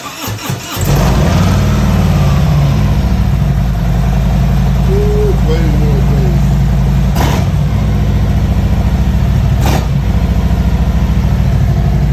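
A 2023 Harley-Davidson Street Glide with Shark Road slip-on exhausts starts and settles into a loud, deep, steady idle rumble up close, with a faint squeaky whistle partway through.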